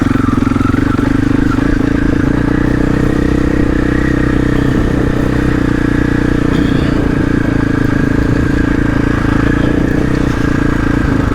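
A GasGas EX 500 dirt bike with traction control at maximum climbing a hill, its engine droning steadily and loudly close by throughout, with some clatter from the terrain.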